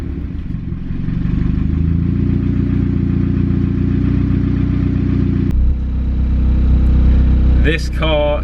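A turbocharged Mazda MX-5 engine runs loud and steady, its rumble climbing early on, then shifting abruptly to a deeper, heavier drone; a short rising whine flickers near the end.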